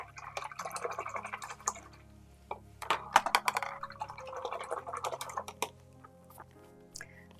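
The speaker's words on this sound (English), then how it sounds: "So I'm going to wash my brush." Paintbrush swished and tapped in a water jar during acrylic painting, soft irregular sloshing and clinks, close and faint, in scattered bursts.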